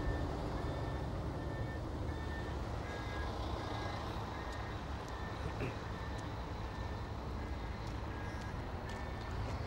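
A truck backs up while its reversing alarm beeps steadily in a regular repeating pattern over a constant low engine rumble and background noise.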